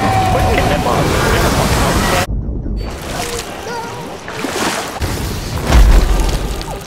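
A bomb is shot and blows up in a pirate-themed sea video game: loud, dense, sustained blast and crashing noise with booms and splash-like bursts, with game voices and chatter mixed in.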